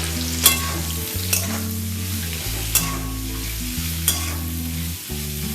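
Olkopi (kohlrabi) for pickle is stirred and fried in a pan with turmeric and Kashmiri chilli powder. Four sharp spoon scrapes land over a steady low sizzle, with a droning tonal layer running underneath throughout.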